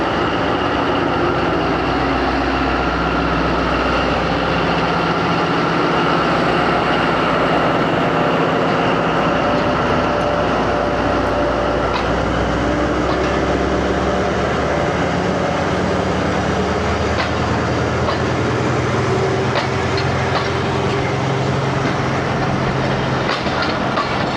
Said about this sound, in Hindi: जैसे ही इंचार्ज गार्ड साहब ने अलाउ किया है तो ड्राइवर साहब ने मूव किया ट्रेन।